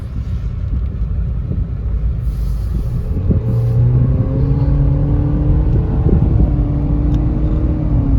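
A 2019 Nissan Versa Note with a CVT and simulated shifts, about 63K miles, accelerates from inside the cabin. Steady loud low engine drone with rising whining tones, no talking.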